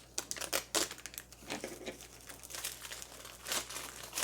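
Knitting yarn is tugged out of a crinkly plastic bag held shut with tape, giving quiet irregular crackles and crinkles in short bursts, close and fairly faint.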